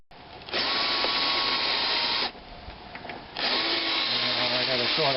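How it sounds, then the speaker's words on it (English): A power drill bores out pop rivets on a Ford Ranger door, whirring loudly close by in two long bursts separated by a short pause, with a brief lower-pitched stretch near the end. "so that we can drill the rivets out."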